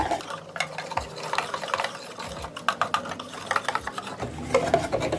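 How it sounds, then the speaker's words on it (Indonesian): Crepe batter stirred in a bowl, a close, continuous scraping and clicking of the utensil against the sides in quick uneven strokes, with no speech. "Aduk terus hingga merata."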